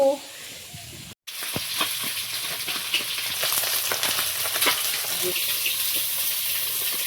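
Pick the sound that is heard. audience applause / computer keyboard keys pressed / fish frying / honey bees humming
fish frying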